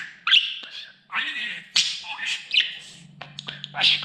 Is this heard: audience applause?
no